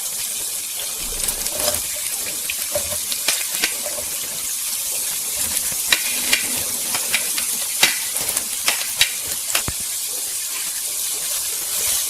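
Chicken sizzles steadily in a hot karahi, a dense frying hiss broken by scattered clicks and scrapes from stirring.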